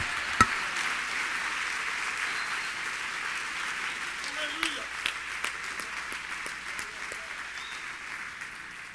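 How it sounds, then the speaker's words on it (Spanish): A church congregation applauds during a sermon, a moderately faint, steady wash of clapping with a few sharper individual claps and some cheering voices mixed in, heard at a slight distance. "¡Apláudale fuerte!"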